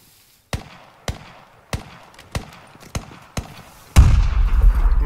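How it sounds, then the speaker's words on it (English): A grenade exploding over a wall in a combat area, heard as a loud, close, booming blast at the end, following a run of sharp evenly spaced gunshot-like cracks. "Grenade's going over the wall,"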